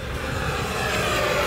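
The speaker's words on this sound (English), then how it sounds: "Here's full throttle on a 6S jet." An electric RC F-16 Thunderbirds jet with a 70mm ducted fan on a 6S battery screams past at full throttle, a steady, loud, broadband whoosh that fills the whole stretch without a break.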